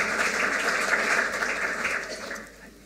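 Audience applause for Kirsten van den Hul, a Dutch MP and education spokesperson, at a Club Rood event in Eindhoven: a steady wash of clapping for about two seconds, then tapering off.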